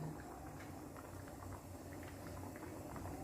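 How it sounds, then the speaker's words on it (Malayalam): Chickpea curry (kadala curry) simmering at a full boil in a cooking pot at home, a steady close bubbling and popping that continues without break and without talk. "നല്ലപോലെ തിളയ്ക്കുന്നുണ്ട്."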